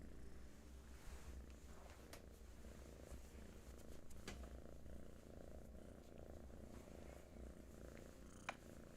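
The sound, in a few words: cat purring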